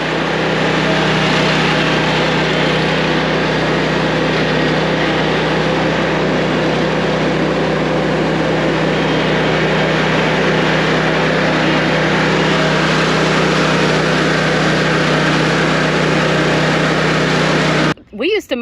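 A commercial lawn mower drones steadily at close range while mowing, a loud unbroken engine roar that cuts off abruptly near the end.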